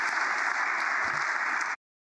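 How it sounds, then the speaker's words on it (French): Audience at a defence and NATO conference applauding loudly, a thick steady burst of clapping that cuts off abruptly after under two seconds. "on applaudit très fort"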